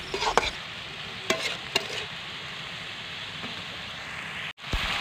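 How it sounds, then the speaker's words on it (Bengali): Taro stolons being stir-fried with spices in a pan, a steady frying hiss with a few scraping stirs near the start, close and continuous, no voices. "এখন আমি কচু লতিগুলোকে মশলার সাথে মিশিয়ে কষিয়ে নেব।"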